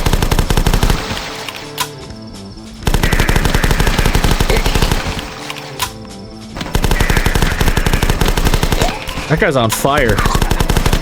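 Rapid bursts of machine-gun fire from the flash game The Last Stand, loud and close, broken by short pauses, with someone talking briefly over the shooting.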